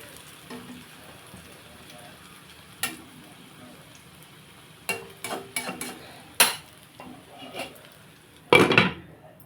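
Egg omelette being flipped in a pan for an egg curry: scattered sharp clinks and scrapes of utensil on pan, with one louder clatter near the end over a low background hiss.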